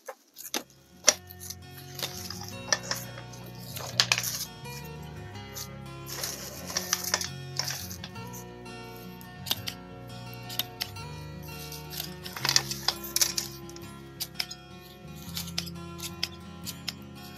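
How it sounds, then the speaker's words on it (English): Scissors snip at petunias in a summer hanging basket, a run of crisp, close clicks and cuts in irregular bursts, with no talking. "let me come back in here and do some trimming on the petunias."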